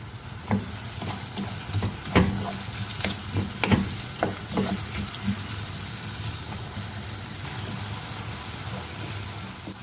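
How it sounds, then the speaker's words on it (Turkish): Steady sizzling of onions frying in oil for Turkish mercimek köftesi, with occasional stirring scrapes and clicks of a utensil against the pan. "bir çay bardağı yağ ilave ederek güzelce soğanımı kavuruyorum"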